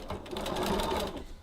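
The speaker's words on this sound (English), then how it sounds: "Now I'm stitching with a 1 centimeter 3/8 of an inch seam allowance" A sewing machine runs steadily, stitching a 1 cm (3/8 inch) seam on a tote bag at a short 2.4 stitch length, a continuous close whirring hum with no pauses.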